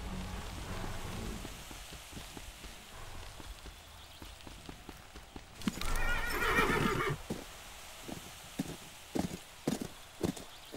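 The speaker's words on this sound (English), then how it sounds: "Let's get the horses." In Call of Juarez: Bound in Blood, faint background ambience gives way to a horse's whinny, followed by a sequence of sharp hoof clops, close and distinct, no talking.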